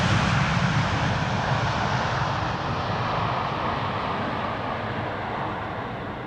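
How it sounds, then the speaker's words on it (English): An airliner's jet engines roar loudly and steadily in a broad rushing noise as it rolls out on landing at Amsterdam Schiphol's Polderbaan runway 18R with idle reverse thrust, easing slightly toward the end. "Doing a KLM style landing. Idle reversers and rolling out."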